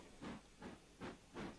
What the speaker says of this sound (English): There's the train coming!